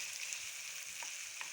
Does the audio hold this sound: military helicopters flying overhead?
no